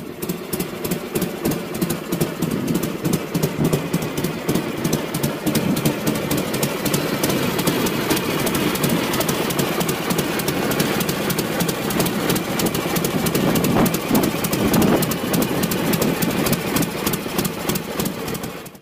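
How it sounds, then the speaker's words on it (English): A Harley-Davidson Knucklehead engine built on an S&S knuckle crankcase with S&S cylinders, running in a Hydra-Glide clone motorcycle, a loud, close, continuous rhythmic pulsing idle that lasts steadily throughout and cuts off at the end. "That thunderous sound comes from an S&S special order knuckle crankcase."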